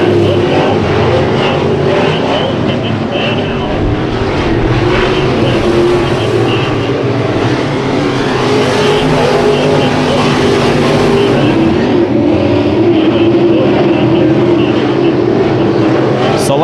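Race cars in an eight-lap heat race at Bakersfield Speedway roar around the track in a loud, continuous wall of engine noise, rising and falling slightly as the pack passes, with no voices heard.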